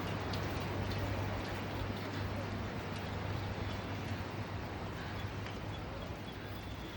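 Steady rain falls near a river, a continuous hiss of drops with a low hum beneath, faint voices now and then.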